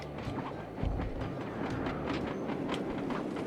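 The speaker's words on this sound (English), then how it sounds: "Sly, the second iron horse train is coming too fast." A train in the video game Sly 2: Band of Thieves rumbles past with a dense, steady roar and rhythmic clattering. A heavy thump comes early, and the noise stays loud and close throughout.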